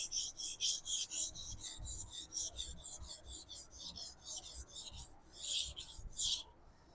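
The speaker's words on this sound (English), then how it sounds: "If I'm pressing really hard and do the sharpening, right, you can see the slurry is coming out a lot." A knife is sharpened with hard pressure on a wet sharpening stone, giving a close, rhythmic series of rasping strokes back and forth, about two per second, with brief pauses.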